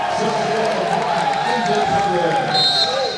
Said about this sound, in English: Nick West gets a big hand from the crowd.